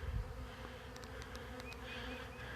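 A swarm of honey bees hums in a continuous close buzz near backyard hives, steady and moderately loud, with a few sharper individual wing whines passing through.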